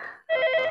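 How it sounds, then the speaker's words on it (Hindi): A telephone bell rings in a Hindi film scene: a short, loud electronic trill breaks off briefly, then resumes as a bright, sustained tone. "टेलीफोन की घंटी बज रही है, देखो ना कोई आ रहा है।"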